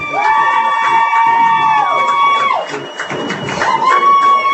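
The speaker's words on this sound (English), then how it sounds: "we're going to have all kinds of crowd noise tonight" A loud crowd at a Camdenton Lakers vs. Helias high school football game cheers and yells as the home team takes the field, with a sustained tonal horn-like sound running over the roar.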